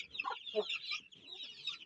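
Several chicks cluck and chirp busily up close while eating eggs, a lively chorus of soft clucks and high peeps with no talking.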